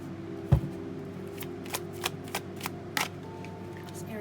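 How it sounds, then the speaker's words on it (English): Tarot cards being shuffled by hand, a series of soft riffling snaps and flicks at uneven intervals over a low steady hum, with one louder thump near the start and no talking. "If you guys don't want to wait through the shuffling, feel free to fast forward."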